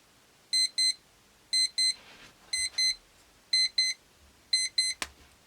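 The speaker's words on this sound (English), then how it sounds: "Definitely the beeper." An Xtime digital alarm clock's beeper sounds in steady pairs of sharp electronic beeps, repeating five times about once a second, loud and close with a faint click near the end.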